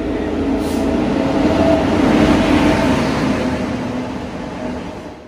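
A train arrives at a railway station in India, its loud, steady rumble swelling and then easing off slightly as it slows nearby, with no speech.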